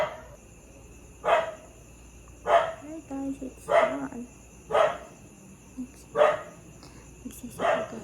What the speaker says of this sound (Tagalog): Tapos nag-iingay ng mga aso kasi pumupunta ng lobo.